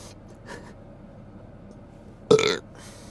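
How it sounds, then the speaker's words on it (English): A single loud, short burp erupts close to the microphone after a stretch of near quiet. "I was gonna burp right in the mic."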